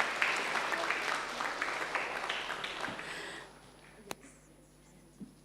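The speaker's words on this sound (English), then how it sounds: "Give a big applause to our" Audience clapping for the speaker at the end of a session at an international seminar on antibiotic resistance, a dense steady patter for about three seconds that then fades out, leaving a few faint stray sounds.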